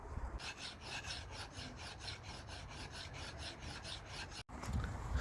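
Steady hand file rasping back and forth across a hatchet's steel edge, about fifteen even strokes in a regular rhythm, close and fairly quiet, ending with a brief pause and a soft knock.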